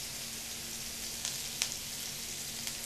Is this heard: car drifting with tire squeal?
no